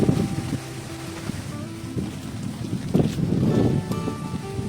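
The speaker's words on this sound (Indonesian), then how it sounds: "Di sini angin berhembus dengan sangat kencang, pertanda hujan akan turun." Strong wind gusts roar across a riverside camp with a bamboo shelter ahead of rain, a steady rushing blast that swells and buffets the microphone, with no talking.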